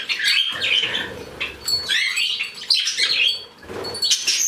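A flock of pet canaries and cockatiels fills the room with chirps and calls, with bursts of wings flapping as the birds fly about nearby, fairly loud and continuous.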